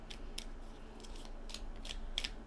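Tiny tarot cards are shuffled by hand, giving soft, scattered clicks and riffles at an irregular rhythm. They are quiet and close, with no talk.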